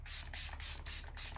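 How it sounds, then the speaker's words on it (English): Dull Buffer facial spray serum mists out in five quick, even hissing bursts, close and crisp, with short pauses between pumps. "Doll Buffer Spray Serum."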